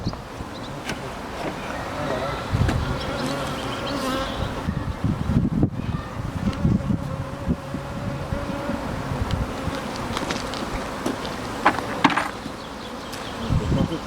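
Honey bees buzz around an open hive box, a dense close droning hum with individual bees flying past the microphone, constant throughout with faint rustling and handling noises mixed in.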